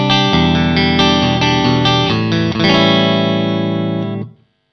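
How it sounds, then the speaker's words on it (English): Electric guitar with the pickup selector in the middle position of a Kinman SurfMaster and FatMaster zero-hum set, playing strummed chords with a chorus-tinged, slightly driven tone that rings out and then stops abruptly. "The middle position, no noise because it's the middle position."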